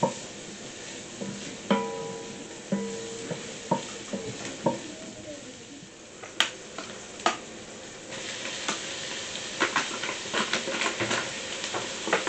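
Onions fry in a pan on a home stove, with a steady sizzle under frequent sharp clacks and scrapes of stirring. No one speaks.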